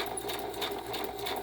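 A sewing machine runs a straight stitch in a continuous fast whir, close and steady, with a low motor drone under the rapid needle rhythm.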